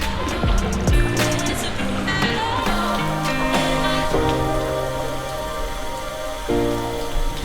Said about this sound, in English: Rainy and windy.